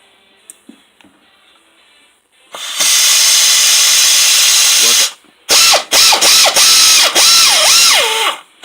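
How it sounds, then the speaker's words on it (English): Pneumatic air wrench spinning a socket while working on an alternator: faint clicks first, then a loud sustained hiss of air, then a run of loud bursts of whirring with rising and falling pitch, all close. "Just hit the button, hit the air, and get that socket to rotate."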